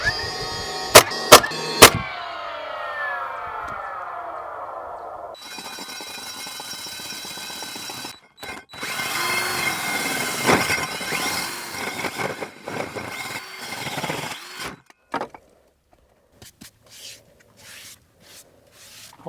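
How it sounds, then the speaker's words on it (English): A hole saw bores through an exterior wall to fit an outdoor sconce, giving a steady grinding, rasping drone across two long bursts, broken by short gaps and a few sharp clacks at the start and end. "Hole saws aren't known for making the absolute cleanest holes, but definitely made it large enough"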